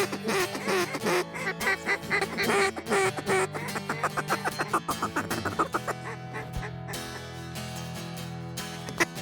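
Ducks quack repeatedly as they drop in to a duck hunt, a dense run of loud, close calls layered over one another with no talking.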